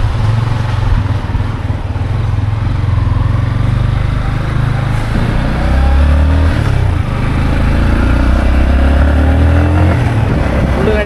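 A car driven along the road on a trip to Chiplun gives a steady, loud, low engine drone and road rumble that runs unbroken from start to finish.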